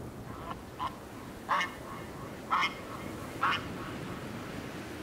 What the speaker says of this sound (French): le caquetage lointain des oies canadiennes de retour de leur séjour dans le sud